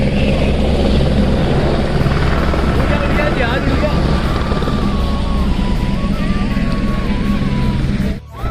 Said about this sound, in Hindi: ये देखिए इसी जगह पे आ रहा है सेना का हेलीकॉप्टर